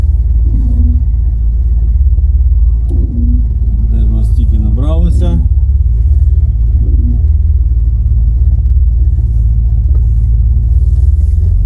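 An Opel Monza 3.0 automatic coupe from the 1980s rumbles steadily and loudly, heard from inside the vehicle throughout, while a person speaks briefly over the low drone.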